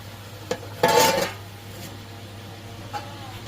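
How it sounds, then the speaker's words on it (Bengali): Duck meat being stirred and sautéed in a pot: a few clinks and scrapes of a spoon against metal, one brief louder burst of scraping, over a low steady hum. "দেখুন গাইস কি সুন্দর কষানো হচ্ছে ধীরে ধীরে আস্তে আস্তে এরকমভাবে কষানো হচ্ছে"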